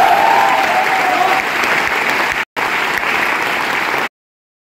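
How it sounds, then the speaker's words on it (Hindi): Loud, dense applause from a large audience at a direct selling company event, steady clapping for about four seconds with a brief cut partway through, then silence. "आपकी तालियों के लिए"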